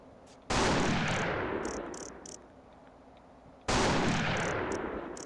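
Two loud sniper rifle shots in The Thing video game, each a sharp blast with a long fading tail about three seconds apart, with no talk.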